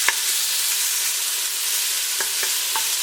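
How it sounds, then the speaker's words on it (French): Onions sizzle in hot oil in a cooking pot while a wooden spoon stirs them, making a steady close frying hiss broken by a few light scraping knocks. "Dans la cocotte, je mets l'huile, ensuite les oignons, et là je viens donc mélanger avec ma cuillère en bois."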